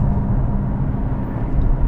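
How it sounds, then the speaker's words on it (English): Steady low road rumble and tyre roar fill the cabin of an Aston Martin DB11 driven in comfort mode, a constant dense drone with no voices. "There is a fair amount of road noise, which, you know, I'm having to talk a bit louder"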